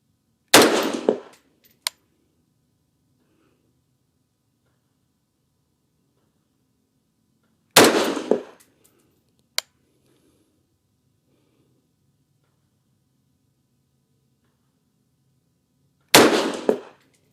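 Three sharp 224 Valkyrie rifle shots fired at a long-range target, spaced several seconds apart, each a loud crack with a short decaying tail and a faint clink shortly after, separated by near silence.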